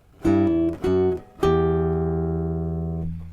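Guitar chords strummed close up: two short strums, then a final chord left ringing and slowly fading.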